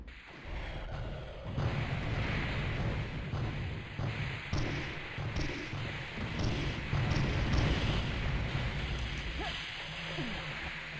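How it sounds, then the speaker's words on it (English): Grenades go off in Deathtrap Dungeon, with repeated dull thumping blasts and whooshes over a busy rumbling game backdrop, moderately loud and fairly close across the stretch. "takes like 2 grenades to kill those"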